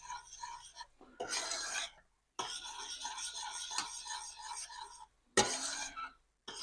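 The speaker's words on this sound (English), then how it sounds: "Now we're going to stir this in." A utensil scrapes and stirs around a pan as gelatin sheets are worked into a panna cotta mix, in three rasping bursts split by short silent pauses, close and fairly quiet.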